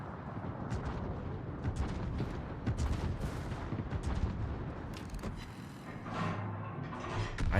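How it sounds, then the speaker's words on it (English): Battleship guns of the Satsuma firing in World of Warships: a dense rumbling roar of heavy naval gunfire and booming impacts rolls on continuously, with layered blasts swelling and fading over the mechanical din. "I hear Satsuma guns."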